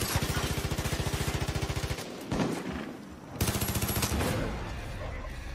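Rapid automatic gunfire in Far Cry 5 hammers out as a steady close rattle, breaks off, then resumes in another loud sustained burst.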